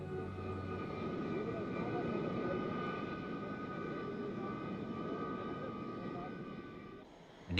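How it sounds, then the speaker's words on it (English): An Indian Air Force transport plane in flight gives off a steady, dense engine drone that holds evenly and then briefly dips near the end. "An Indian Air Force transport plane airlifted the rest of the members and the vehicles from Rangoon to Imphal"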